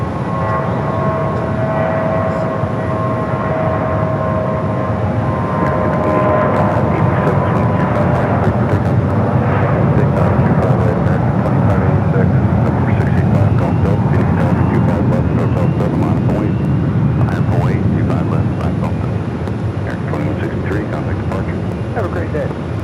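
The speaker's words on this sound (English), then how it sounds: "Aircraft is already rolling." An airliner rolls down the runway and lifts off at Phoenix Sky Harbor, a loud, steady roar of jet engines that swells slightly and holds for the whole stretch, with radio chatter underneath.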